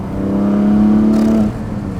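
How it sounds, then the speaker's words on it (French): A Porsche 718 Cayman GT4 engine revs with its exhaust valve open, one short rising blip that holds a steady tone then drops off, heard close with a brief whoosh near the end. "faisons un peu gronder le moteur"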